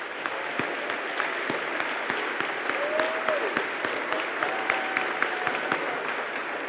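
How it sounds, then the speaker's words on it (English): A middle school graduation audience applauds standing police officers, firefighters and EMTs, steady sustained clapping from a large crowd at a distance, with a few louder individual claps standing out. "Give them a round of applause."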